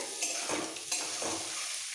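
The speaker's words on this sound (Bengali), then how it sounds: "খুব বেশি ভাজবো না একটু কোট হয়ে গেলে ডিমগুলো তুলে নিতে হবে" Eggs sizzle in hot oil while a utensil scrapes and stirs the pan in a few short strokes.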